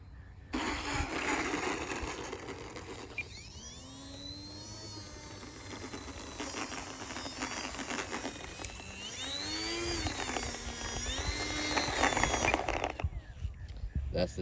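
A small FMS 800mm warbird RC plane circles in to land with its electric motor whining faintly, the pitch rising and falling as the throttle changes, over steady outdoor background noise.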